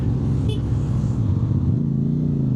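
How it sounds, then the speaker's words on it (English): A deep, steady engine rumble from the stock exhaust of a CFMOTO 450 CL-C motorcycle, close and continuous, with a slight shift in pitch as it pulls along. "the stock exhaust has a really nice sound. I hope you can hear it"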